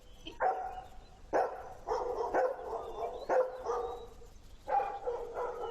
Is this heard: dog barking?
yes